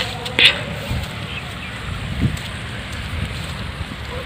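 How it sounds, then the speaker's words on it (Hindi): Rain falls over village fields, a soft steady patter with a faint hiss and a few nearer drops, fairly quiet and continuous. "बारिश भी शुरू हो गई है"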